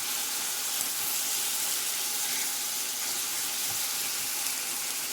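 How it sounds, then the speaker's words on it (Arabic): Colored bell peppers fry in oil in a pan, a continuous loud hissing sizzle held evenly throughout, with no talk. "بدينا نقلي الفلفل الملون"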